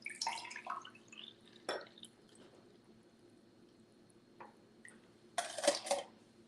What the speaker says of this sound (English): Pour myself some more water.